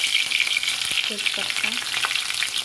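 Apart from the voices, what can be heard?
cumin, chili and bay leaf frying in hot oil in a kadhai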